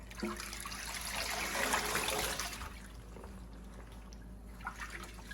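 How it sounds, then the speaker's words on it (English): A fabric RPC Studio Spider-Man: Far From Home replica suit is moved into clean, lukewarm rinse water, sloshing and trickling steadily up close before easing to quieter drips and small splashes. "now we're going to transfer it to some clean water to rinse it"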